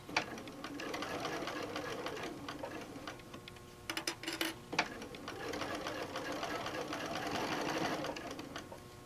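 A sewing machine stitches a quilted tote bag, its steady rapid needle ticking running throughout at low level, with a few sharper clicks from fabric handling midway.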